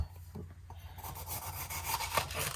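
A knife slices a red pepper into small cubes on a board, giving soft scraping, rubbing strokes up close, repeated in a quick uneven rhythm with no voices.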